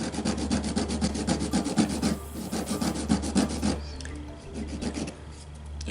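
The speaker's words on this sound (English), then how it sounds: "I'm filing it evenly, I do it a few times on this side and switch to the other side" A nail file rasps across a fingernail in quick, even back-and-forth strokes, close and clear, pausing briefly before continuing more softly; no talking.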